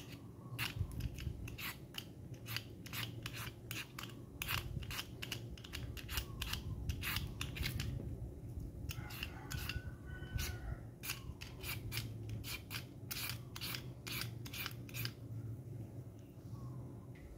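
A knife chops unripe papaya into small pieces on a board, producing a quick, regular series of crisp close taps, briefly pausing midway before the rapid chopping resumes.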